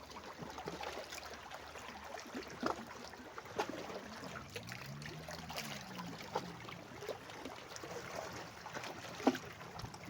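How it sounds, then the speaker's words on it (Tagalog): Gentle waves lapping softly against a boat or shore at the water's edge near Mount Malindig, faint irregular splashes and trickles over a quiet outdoor background. "Sarap pakinggan ng tapik ng alon"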